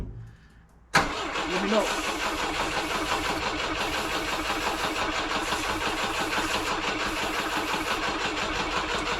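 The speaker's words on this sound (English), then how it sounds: "we're going to see if we can get this Volvo started" A Volvo Amazon with the choke on cranks after a short quiet start, a loud, steady churning engine drone carrying on for several seconds, with a brief spoken remark.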